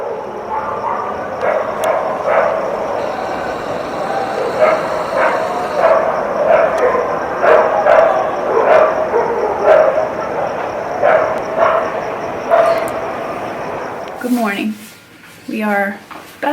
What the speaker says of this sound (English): I also wanted to share with you the sound of a Mexican city at night